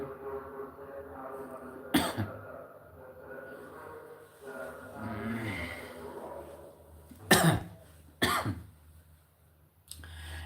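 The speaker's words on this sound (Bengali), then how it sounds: "একটু ঠান্ডা কাশির জন্য একটু প্রবলেম হচ্ছে" Several harsh coughs from a cold, one early and a tight pair later, spaced out between quiet stretches, with some faint mumbling in between.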